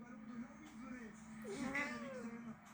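A hoarse, raspy cat meows a couple of times near the microphone, drawn-out and croaky, over quiet room background.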